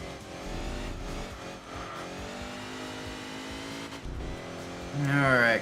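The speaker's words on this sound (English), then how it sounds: "I'm bouncing off the rev limiter like a crazy." Racing car engine in Enthusia Professional Racing screaming at high revs and bouncing against the rev limiter, loud and close, with a brief dip and a surge of revving near the end.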